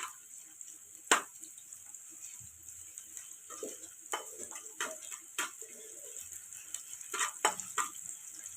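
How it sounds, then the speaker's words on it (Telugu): Onions frying in a little hot oil for veg shawarma, heard as quiet, sparse sizzling with irregular crackles and pops over a soft background hiss. "ఇప్పుడు మనము ఆయిల్ వేడెక్కింది కాబట్టి ఫస్ట్ ఆనియన్స్ వేసుకోవాలి"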